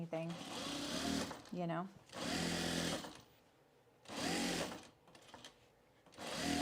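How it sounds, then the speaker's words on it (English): A sewing machine bastes the bottom edge of fabric booties in short bursts of fast, buzzing stitching separated by pauses, with a person talking briefly between runs. "I'm going to baste the bottom edge first so that then I don't have to pin anything"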